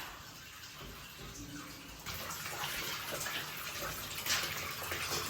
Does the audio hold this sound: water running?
yes